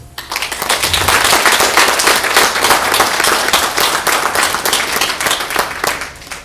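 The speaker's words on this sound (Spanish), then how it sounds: "Vamos a darle un fuerte aplauso." A church congregation at an Easter resurrection service bursts into loud, dense applause, a sustained roar of many hands clapping that rises quickly and holds steady before tapering slightly at the end.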